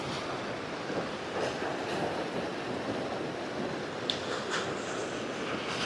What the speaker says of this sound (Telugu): చూసారు కదా వాటర్ ఎలా పారుతుందో